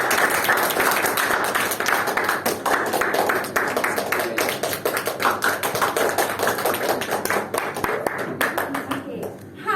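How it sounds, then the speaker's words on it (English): Steady clapping from Brunei Speakers Club Toastmasters members at an online meeting, many hands patting in a dense, continuous patter for nearly ten seconds, tapering slightly near the end. "Let's big round of applause to first-time grammarian."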